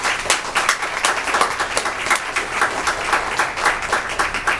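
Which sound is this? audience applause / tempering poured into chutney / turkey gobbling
audience applause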